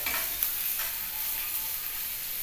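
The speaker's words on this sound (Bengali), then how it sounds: "এইবারে পটলটাকে ভালো করে তেল দিয়ে নাড়িয়ে নিচ্ছি" Pointed gourd strips being stirred in hot oil in a pan, a steady close sizzle of frying with faint scraping of the spoon, continuous and even throughout, no voices.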